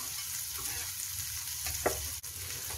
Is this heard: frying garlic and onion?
yes